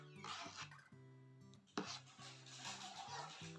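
Scraping and rubbing of a utensil against a bowl while stirring salt into an uncooked sauce, repeated stirring strokes with a sharp knock midway, over a low background hum.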